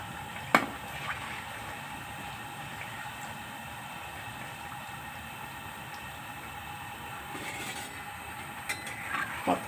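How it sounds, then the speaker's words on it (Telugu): Sugar gorumitilu, a Telugu sweet, frying in hot oil give off a faint, steady sizzling hiss throughout, with a few soft clicks and pops. "ఇదిగోండి వేగుతున్నాయి."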